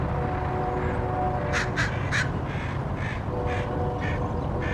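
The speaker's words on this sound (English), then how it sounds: "Here comes another crow." Crows caw in a series of harsh calls near a perched eagle outdoors in a park, moderately distant over steady background noise, in short clusters of three or four caws.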